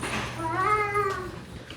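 A cat gives a single drawn-out meow, faint and close, over quiet background hum.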